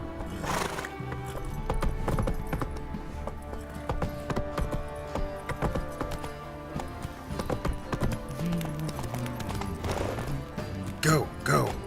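Roach, a horse in The Witcher 3 game, gallops with steady clip-clop hoofbeats and several whinnies, under continuous game music and sound effects; a voice speaks briefly.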